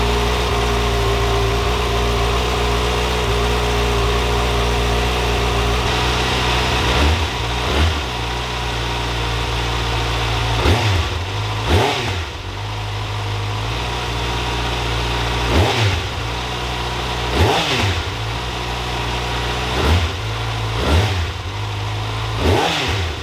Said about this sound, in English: you know I gotta let you hear the factory exhaust